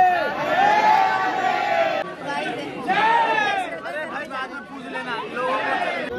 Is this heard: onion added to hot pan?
no